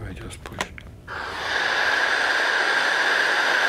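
A brief spoken moment gives way to a steady, loud hiss of static radio antenna noise, partly cosmic microwave background radiation, that holds evenly to the end.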